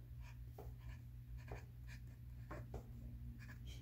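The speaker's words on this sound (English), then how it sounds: "I'm just going to write Monteverde once" A wet dip pen scratches across paper in short, separate strokes, each a soft, close scrape, over a steady low hum in a quiet room.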